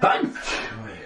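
A single sharp sneeze from a person indoors, loud and close, ending quickly with a short breathy trail.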